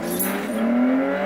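A Ferrari Enzo engine in the Forza Horizon 2 racing game, a loud, close high-pitched wail whose pitch climbs steadily as the car accelerates, with no talking over it.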